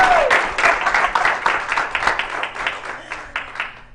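A crowd of union machinists at a women's leadership program gathering applauds loudly, with dense overlapping clapping that starts strong and slowly thins out toward the end.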